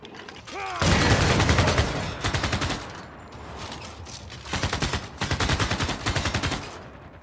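Artillery gunfire in the strategy game Civilization VI: after a short rising whistle, loud rapid bursts of shots rattle in several separate volleys, close and dense.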